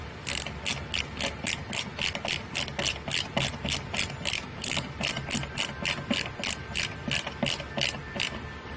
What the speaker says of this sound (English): So let's go and put the screws in.